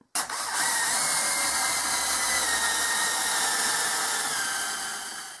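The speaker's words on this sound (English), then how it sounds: "Let's drill some steel and compare it." A power drill bores steadily into mild steel, a loud continuous high whine with a grinding edge that runs alone and unbroken for about five seconds after a brief start.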